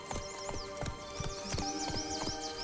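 Roach the horse trotting in The Witcher 3 video game, rhythmic clip-clopping hooves at a steady pace with clear clacking strikes and a faint whinny, over a soft background bed.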